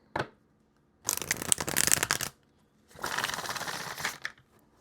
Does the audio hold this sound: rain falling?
no